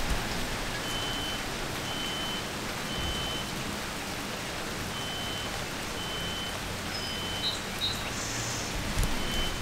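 Steady rain falls outdoors on a gloomy evening, an even, constant hiss throughout with faint intermittent beeping in the background.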